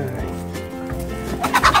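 Backyard homestead chickens, released in the morning, make a burst of close, loud gobbling clucks that rise sharply toward the end of the brief moment.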